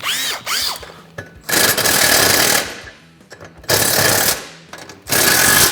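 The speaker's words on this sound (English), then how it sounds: "go ahead and go through and fully tighten all the hardware" Lift kit bracket hardware being tightened on a Polaris RZR XP Turbo: loud, close bursts of a power tool rattle and hammer in separate runs of one to two seconds, with short quiet gaps and small clicks between them.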